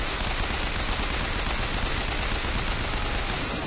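Continuous rapid gunfire in the video game Bioshock Infinite: dense, unbroken automatic shots at an even loud level throughout, with no pauses or voices.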